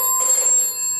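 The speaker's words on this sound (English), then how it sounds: "Is it time where the phone bell rings?" A telephone bell rings steadily for about a second in a recorded stage play, a bright sustained metallic trill with no talk over it.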